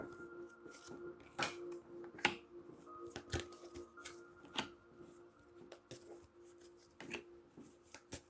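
Tarot cards are shuffled to cover a spread, giving soft, irregular riffles and snaps with quiet pauses between bursts, close and gentle against a hushed room.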